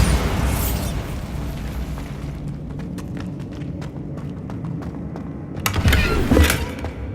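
Bombarda spell explosions in Hogwarts Legacy, a loud booming blast at the start that rumbles and fades, then a second burst with crackling debris near the end, close and heavy.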